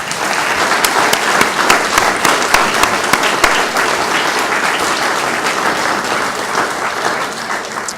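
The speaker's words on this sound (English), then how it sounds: "Let's give them all one more round of applause." An audience at a scholarship foundation awards ceremony applauds the scholarship recipients with steady, loud clapping from a crowded room that holds throughout without talk.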